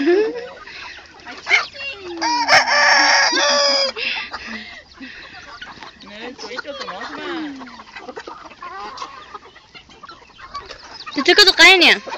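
Chickens cluck and a rooster crows on a farm in Snohomish, Washington, with scattered calls rising and falling across the scene and a louder burst of crowing near the end, while people talk nearby.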